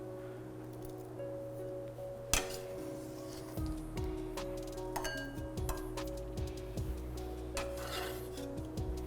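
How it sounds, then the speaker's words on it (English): Ice cubes clink into a glass while a gin cocktail is mixed beside fresh shucked oysters: a sharp clink near the start, then several lighter taps and rattles over a steady background hum, with no talking. "Lovely little cubes. Put straight in."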